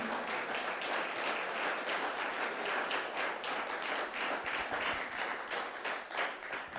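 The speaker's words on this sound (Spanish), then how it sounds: "dele fuerte las palmas al Espíritu Santo" Congregation clapping during a church service, a dense, steady wash of many hands with some rhythmic pulses, loud and continuous throughout with no talk over it.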